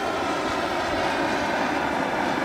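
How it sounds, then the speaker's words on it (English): A loud, continuous roar of a blowtorch flame, a steady rushing hiss close by with no breaks. "we're gonna turn on the torch. There we go. You can hear it"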